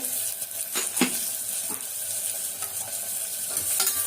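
Onions sauté with salt in a hot pan, a steady close sizzle broken by occasional scraping stirs, with no one talking.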